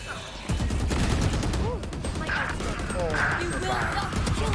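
Gunfire in a shooting video game, a burst of rapid shots and crackling impacts at the start, then continuing battle noise under excited voices of players talking.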